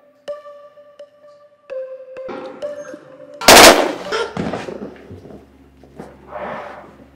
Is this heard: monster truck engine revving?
no